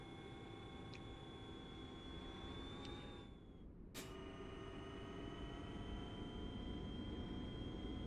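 Electric truck in American Truck Simulator giving off a steady, high-pitched electric whir over a continuous low drive hum, held at an even level throughout with no voices.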